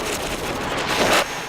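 Gunfire from guns, heard as a dense, continuous rattle of rapid shots at steady loudness with a brief louder swell near the end, no voices.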